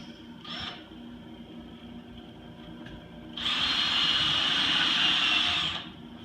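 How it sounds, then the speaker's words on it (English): A power drill drives screws through plywood subfloor, whirring steadily for a few seconds at close range, preceded by a brief mechanical buzz and quiet room noise. "Go ahead and drill her in and"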